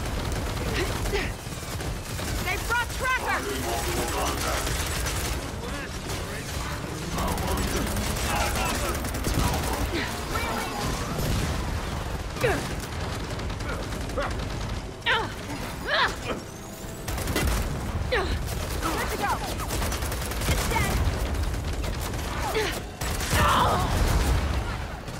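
Tri-Shot heavy weapon fire pounds away during a Gears of War 4 horde-style match defending a settlement, a loud, continuous barrage with mechanical clanks and sharp impacts layered throughout.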